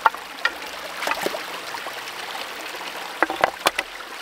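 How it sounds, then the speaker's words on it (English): Cold water gushes out of a ram pump intake pipe outdoors, making a steady trickling, splashing flow with a few sharper splashes near the end. "making sure that water is coming out full force from this pipe right here"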